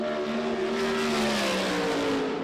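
A USAC Silver Crown race car roars through its first lap on the Springfield Mile dirt oval, its engine note sweeping and shifting in pitch as it passes, loud and sustained with no talk over it.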